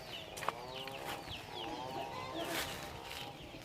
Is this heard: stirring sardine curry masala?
no